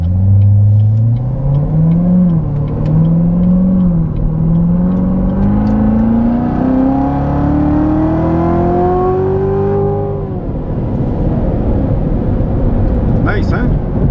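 A 2017 Corvette Z06 engine climbs steadily in pitch through the gears, loud and close, then drops off, with a voice audible near the end.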